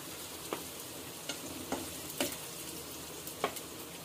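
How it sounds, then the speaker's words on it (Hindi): Vegetables half-fry in a hot pan for veg Hakka noodles, giving a constant soft sizzle broken by a few sharp clicks as they are stirred. "इनको सब्जियों को हमें हाफ फ्राई करना है।"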